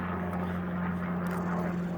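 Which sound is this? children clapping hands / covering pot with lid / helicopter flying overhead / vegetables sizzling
helicopter flying overhead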